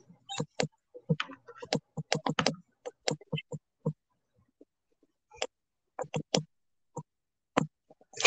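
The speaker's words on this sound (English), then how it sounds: "I'm typing" Irregular bursts of keystrokes on a computer keyboard, quick clusters of clicks separated by short pauses, close and clear with no talking.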